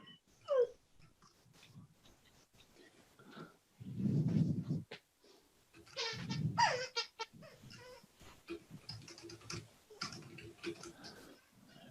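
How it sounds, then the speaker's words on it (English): A dog plays with a squeaky toy nearby, giving bursts of squeaks and chewing between quieter gaps, with louder rustling thumps in the middle of the stretch. "A dog with a squeaky toy."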